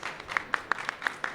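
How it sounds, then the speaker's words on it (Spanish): Brief applause from a small audience at a panel discussion on cultural rights, marking ten years of a cultural centre, with fairly quiet, evenly spaced hand claps in a steady rhythm and no talking over them. "un fuerte aplauso también para ella"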